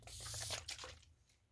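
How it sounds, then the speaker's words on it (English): Makeup setting spray misted from a pump bottle in several quick hissing bursts, close and fairly quiet, fading into near silence at the end. "Let's grab some setting spray and we'll be done."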